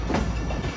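The Hazara Express, a passenger train with refurbished old coaches, rumbles along the rails with a loud, steady roar and clatter heard from up close on board.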